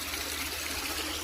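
Waterfall along a bike-touring route in the Lochsa area, a steady broadband rushing and splashing of falling water, fairly close and continuous with no voices.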